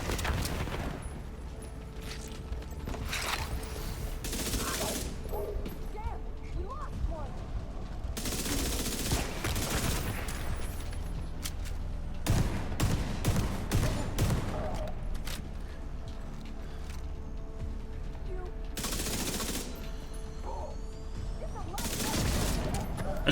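Gunfire in The Division 2 during early-level play of the Summit, coming in bursts of rapid automatic fire separated by quieter gaps, fairly loud, with a voice talking over much of it.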